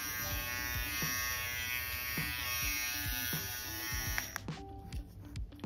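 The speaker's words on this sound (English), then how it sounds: "Then we have the Philips 7000 series. The Vintage T9 trimmer." A Philips 7000 series Vintage T9 trimmer runs with a steady, close electric buzz for about four seconds, then switches off, leaving faint clicks and handling noise.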